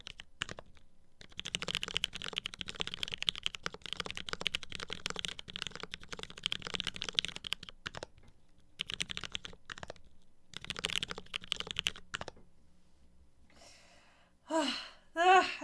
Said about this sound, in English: I had to look at the keyboard to be like, oh, the B is over there, right?